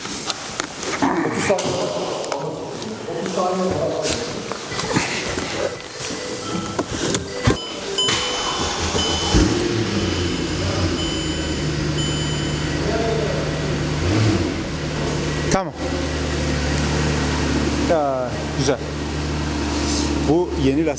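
A car engine cranks and starts in a garage, then settles into a steady idle with a fan-like hum, loud and close, while people talk over it.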